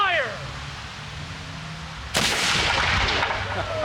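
A single loud musket volley from a historical reenactment crew cracks out after a shouted command, its boom rolling and echoing across open ground before fading into a lingering outdoor rumble.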